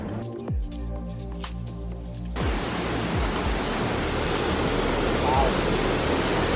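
Steady broadband rush of waterfalls at the Seven Sacred Pools along the Road to Hana, Maui, rising abruptly to a loud continuous roar after a quieter stretch with voices, plus a few low thumps.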